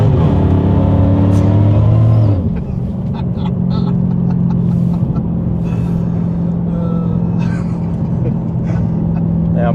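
Loud engine roar from an 800 bhp Dodge Hellcat muscle car launching and burying its tyres, a rising harmonic growl that drops after about two seconds into a steady heavy rumble with tyre noise, close by.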